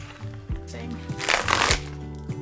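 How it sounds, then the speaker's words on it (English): Sticky glue tape being torn from a cardboard package, a series of close, scratchy ripping bursts with a louder tear near the middle, over a faint low hum. "It doesn't want to rip nicely. It's like sticky glue tape."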